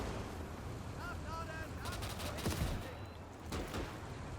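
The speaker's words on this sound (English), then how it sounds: "Those mortars." Mortar fire rumbles through a Gates of Hell battle, with dull thuds and rolling booms layered over constant gunfire and battle noise, plus a few whistling shells near the middle.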